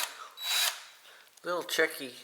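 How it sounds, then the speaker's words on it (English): Power drill using a nail as its bit on pallet wood, a short high whine burst followed by a pause, then someone talks nearby. "I want to say real quick with this drilling with the nail method that it is a little tricky"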